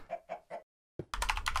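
Minecraft chicken clucking in a game: three short clucks in a row, a pause, a soft knock, then a louder burst of clucking sounds close up.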